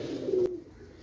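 A single soft, low pigeon coo sounds close by, brief and throaty, then quiet.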